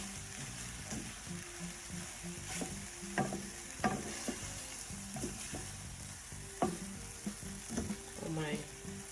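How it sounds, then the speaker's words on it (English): Already-cooked vegetable rice is stirred in a frying pan, giving a soft sizzle under repeated scraping and clinking strokes of the utensil, fairly quiet and irregular throughout. "So the rice is already cooked, so it's just to stir in, and our meal will be ready."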